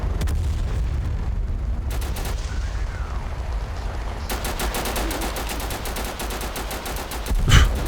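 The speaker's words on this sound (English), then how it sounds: "they are firing on us" Enemy gunfire in Total Conflict: Resistance, a steady stream of rapid shots and distant battlefield rumble continuing throughout, growing denser midway, with a louder blast near the end.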